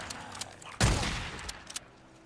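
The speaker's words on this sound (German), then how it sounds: "Und jetzt habe ich geschossen" A single loud gunshot rings out in the zombie game Days Gone, a sharp close blast followed by a short decaying tail, with a couple of faint clicks afterward.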